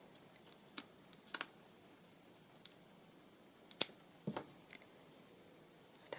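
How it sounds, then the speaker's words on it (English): Scissors make sparse, sharp snips and clicks while cutting a piece of material in half, isolated close crisp snaps separated by quiet gaps. "cut it in half."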